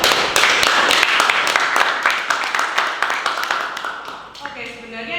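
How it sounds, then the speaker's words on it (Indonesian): Audience clapping for students at a finance and online gaming presentation, a burst of distinct claps that thins out and fades before speech resumes near the end. "Beri tepuk tangan dulu buat kalian."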